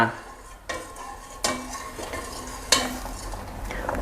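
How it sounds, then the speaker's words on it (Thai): Coconut milk stirred steadily over low heat in a pot, with a few sharp scrapes and clinks of a utensil against the pan and a soft simmering bubble underneath, close and fairly quiet. "คนไปเรื่อยๆครับจนกว่ากะทิจะมีความข้นแล้วก็เดือดขึ้นมา"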